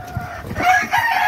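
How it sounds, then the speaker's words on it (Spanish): A farmyard cry from game fowl on a rooster and hen farm, a brief, loud, close call sounding alone. "Aquí está la gallina."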